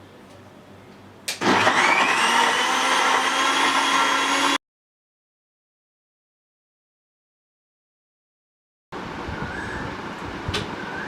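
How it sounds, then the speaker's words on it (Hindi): A blender whirs on suddenly, grinding a raw mango drink with water loudly for a few seconds, then cuts to silence before another steady motor whirr resumes. "ये पानी में डाल के उसको मिक्सी में घुमा रही हूँ।"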